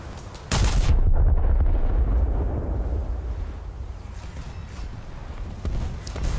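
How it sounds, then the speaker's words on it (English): Torpedoes exploding in World of Warships while sailing the Scharnhorst: a sudden heavy blast followed by a long rumbling roar that slowly fades, with faint later pops and no speech. "that's my torpedoes blowing up"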